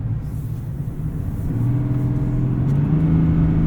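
2024 Chevrolet Silverado 1500 ZR2 with a 3.0L Duramax diesel accelerating in four-wheel drive, a low steady rumble whose engine note rises gradually, heard from inside the cab.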